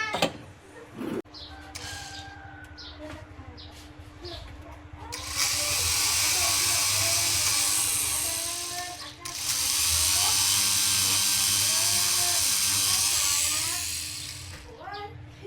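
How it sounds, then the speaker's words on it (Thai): A rotary scraping tool grinds the enamel coating off magnet wire during a tube amp modification, running in two long, steady buzzing passes of several seconds each, fairly close, with someone talking over and between them. "นี่ก็จะเป็นเครื่องขูดน้ำยานะครับ ขูดลวดอาบน้ำยา"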